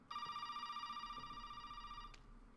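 In Resident Evil 7, a telephone rings with one long, steady electronic tone that cuts off sharply near the end, moderately loud and alone over faint room ambience.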